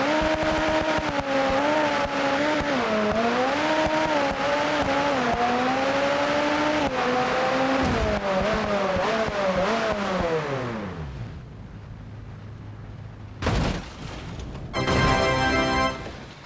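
McLaren supercar in a racing video game, its engine revving loudly with rising and falling pitch through gear changes, then winding down near the end before short bursts of sharp noise and a brief final rev.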